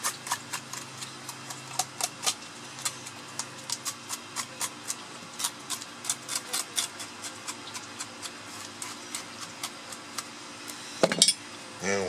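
A knife scrapes scales off a fish during Caribbean-style cleaning, in rapid rhythmic strokes, close and fairly quiet, with a sharper clatter near the end.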